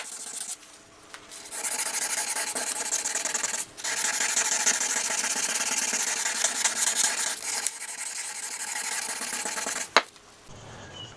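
Hand sanding a motorcycle engine cover with fine 800 and 1500 grit sandpaper, a close, steady scratchy rubbing in long continuous strokes with brief pauses between passes and a sharp tap near the end.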